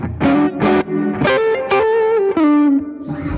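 Electric guitar played through a Vox MV50 amp set to crunch distortion with some reverb, several loud sustained chords and notes ringing out in sequence, close and alone.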